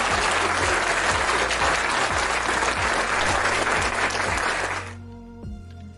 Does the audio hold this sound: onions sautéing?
no